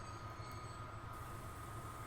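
An LNER train passes in the Transport Fever 2 game with a steady low rumble of wheels on rails. It stays faint and constant throughout, and a thin high tone fades out partway.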